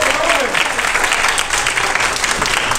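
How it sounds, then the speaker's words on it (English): A church congregation claps loudly and steadily during a sermon, dense applause filling the whole moment, with some voices mixed in underneath. "Clap your hands if you really believe that."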